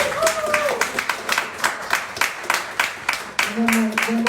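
Audience applause for panelists at a Transgender Day of Remembrance panel discussion, a steady run of clapping across the room, with a voice briefly speaking over it.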